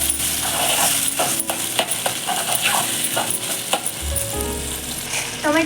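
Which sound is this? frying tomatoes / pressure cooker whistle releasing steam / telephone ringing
frying tomatoes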